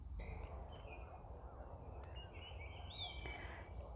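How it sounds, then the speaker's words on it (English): Faint birdsong from trees in a park, scattered chirps and trills in the distance over a steady low outdoor rumble. "I'm sure you can hear all those birds singing from the trees."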